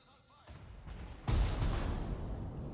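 Heavy naval guns firing from a Russian battleship, the Sinop, in World of Warships: a booming salvo with a sharp onset about midway, preceded by a quieter rumble of low ambient engine and sea noise, with a voice faintly under it.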